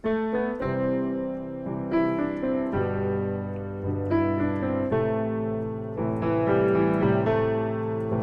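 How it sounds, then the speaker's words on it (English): A piano plays the right-hand melody of a song alone, with steady single notes moving over a held lower accompaniment, close and clear. "I'm going to play a melody with my right hand."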